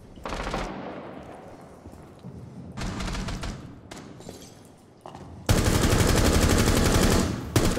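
Heavy gunfire in Rainbow Six Siege, with sustained bursts of rapid automatic fire separated by short pauses and ending in a long, loud continuous volley.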